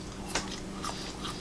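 Crunchy lotus root served with spicy kelp noodles is bitten and chewed close to the microphone, a couple of crisp crunches over steady low background hiss.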